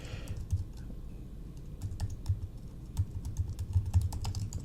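Rapid keystrokes on a computer keyboard while typing text in Photoshop, a steady run of light clicks heard up close over a low hum.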